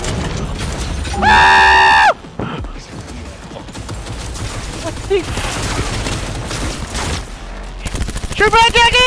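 Gunfire from a firefight in the Cyberpunk video game: sharp shots and rattling bursts crack through a noisy scene, mixed with harsh tonal game effects and shouting voices.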